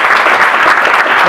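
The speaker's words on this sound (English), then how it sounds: "a round of applause, I think" Audience applause at a tech meetup talk, a dense steady clapping from a room full of people filling the whole moment without a break.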